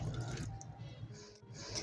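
Grated radish for paratha is pressed by hand to squeeze out its water, giving a faint, brief wet trickle and drip at close range with no talk.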